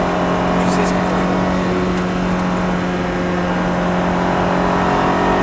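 A Ferrari F430 Scuderia accelerates on a racing circuit, its engine holding a loud, steady, sustained note throughout, with a voice coaching the driver over it.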